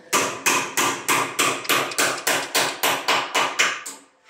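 Steady hammer blows on nails at a rainy construction site, about a dozen loud, sharp impacts at an even rhythm of roughly three per second, close and with no talk over them.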